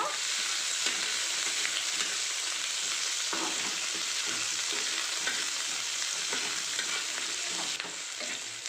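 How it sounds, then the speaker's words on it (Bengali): Chopped onion frying in hot oil for a Bengali fish and tomato charchari, a steady loud sizzle running throughout with soft scraping stirs at intervals, no voices. "এবার কুচিয়ে রাখা পেঁয়াজটা দিয়ে দেবো পেঁয়াজটাকে একটু নেড়ে চেড়ে ভেজে নেব"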